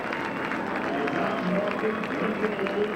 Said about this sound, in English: It's a nice round of applause from the crowd here